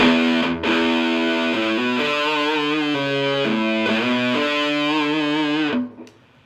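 Heavily distorted electric guitar chords through a Mesa .50 Caliber+ amp at full gain ring out loud and saturated, changing every second or so, then cut off into a short noisy tail.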